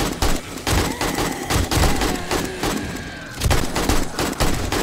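Rapid automatic gunfire, including an AK rifle, in the zombie survival game 7 Days to Die, loud dense bursts with short breaks between volleys.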